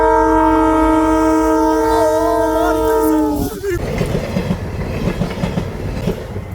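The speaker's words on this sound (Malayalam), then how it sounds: "ട്രെയിൻ വരുന്ന സൗണ്ട് കേൾക്കുന്നുണ്ട്." A train on the Nilambur–Shoranur railway line passes close by, a loud sustained multi-tone horn blast first, then heavy rumbling wheels and clattering carriages rolling past.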